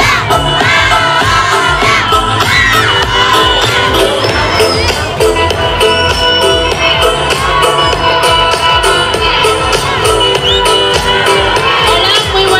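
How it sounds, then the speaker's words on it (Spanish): A crowd at a patriotic holiday celebration in Miravalle cheers and shouts loudly and continuously, with whoops and children's voices in a dense, sustained roar and music-like tones riding over it. "¡Un aplauso para Paola!"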